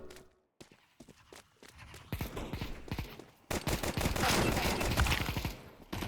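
Gunshots in a video game pop in quick irregular volleys, some sharp and close, building into a dense, loud barrage over the latter half.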